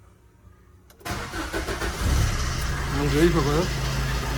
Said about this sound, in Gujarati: ડીઝલ એન્જિનનો અવાજ કંઈક અલગ જ આવે.